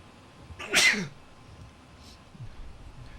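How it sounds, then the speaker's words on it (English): A single loud sneeze close to the microphone, followed by quiet room noise and a faint sniff. "Please excuse me about the sneezing there."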